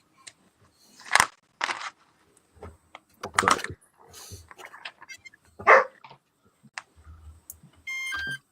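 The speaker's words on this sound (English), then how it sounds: "the dog hears the thunder and barks because she thinks somebody's outside" A dog indoors barks at thunder as a storm rolls in: several sharp, separate barks spaced irregularly over a quiet room, with soft clicks and a short electronic beep near the end.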